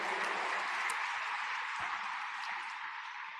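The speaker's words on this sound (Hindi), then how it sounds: "मैं चाहता हूं उनके अभिनंदन में भी तालियां बजाएं।" Steady, dense clapping from an audience at a Brahma Kumaris gathering in India, a continuous even wash of applause that fills the whole stretch and tapers only slightly toward the end.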